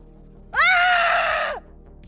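A woman gives one sustained, loud scream of panic lasting about a second, close and alone, set against a faint background.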